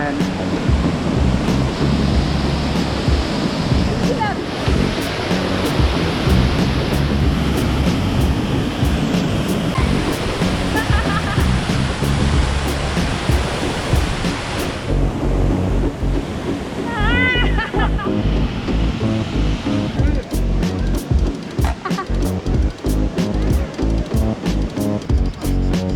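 Kravica waterfall in Bosnia and Herzegovina roars as a loud, continuous rush of falling water, with voices speaking over it and some clatter toward the end.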